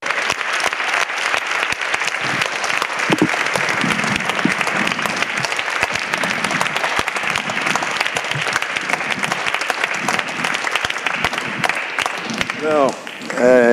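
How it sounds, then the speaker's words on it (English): Sustained audience applause at the Forum d'Avignon 2013 culture forum, a dense, steady wash of many hands clapping in a large hall, holding at an even level throughout, with a voice briefly rising over it near the end. "that applause is not addressed to me, but to the whole forum team"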